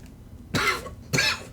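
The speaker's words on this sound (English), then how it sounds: "The worst part is if I go to cough, which it makes me do that" Two sharp coughs from a person playing a video game, one right after the other, close and fairly loud against a quiet background.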